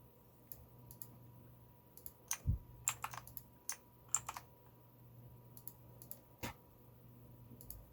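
Computer keyboard keys pressed at a desk during a circuit simulation, a sparse run of sharp, close clicks in small clusters over a steady low hum, with a couple of isolated taps near the end and no talking.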